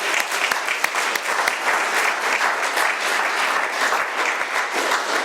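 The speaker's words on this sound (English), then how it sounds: "Please give Steve another round of applause as well." An audience at an AA meeting in Doylestown, Pennsylvania gives a speaker a round of applause. Dense, steady clapping fills the room at close range and loud volume throughout.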